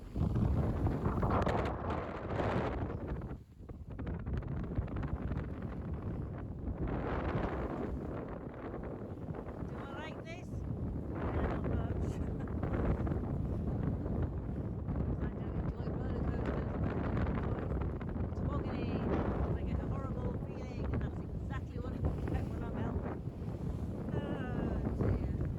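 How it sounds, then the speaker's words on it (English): Strong 18 to 22 knot gusting wind buffets a boat at anchor in a bay off southern France, roaring loudly into the microphone in surging gusts alongside swell, with a voice speaking now and then. "Heavy wind."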